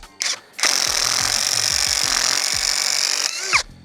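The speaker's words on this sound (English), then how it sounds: "So right now, I'm just going to drill some holes" A power drill bores holes into the wooden legs of a DIY grill cart with a 7/16 inch bit. A brief rev comes first, then a steady, close, loud whine of the drill running for about three seconds before it stops.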